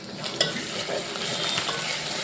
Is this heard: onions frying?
yes